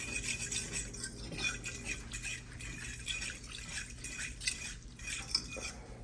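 Gravy being stirred in a pan while cooking cube steak: a steady scrape and swish of utensil against the pan, with faint clinks and a low continuous background hum, fairly quiet throughout.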